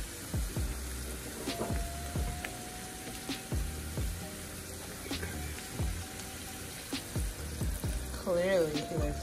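Seafood pasta with a creamy white wine sauce frying in a pan, a steady close sizzle with scattered clicks and clinks of stirring running through the whole stretch.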